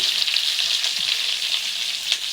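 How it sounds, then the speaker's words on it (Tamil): Continuous close-up sizzling of hot oil in a pan as curry leaves go in, a dense crackling hiss with occasional small pops, no voices. "கருவேப்பிலை போட்டோன்னு அப்படியே எண்ணெயே பறக்குதப்பா"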